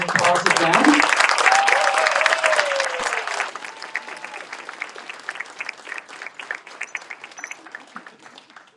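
An auditorium audience gives the Board of Trustees a round of applause at an Alamo Colleges District special announcement. The clapping is dense and loud at first, then thins toward scattered claps.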